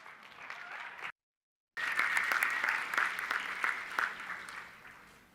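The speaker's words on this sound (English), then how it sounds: "Please give her a round of applause" Audience applause for a speaker at a live pitch event, a steady wash of many hands clapping that drops out completely for a moment, then returns strong and gradually tapers off.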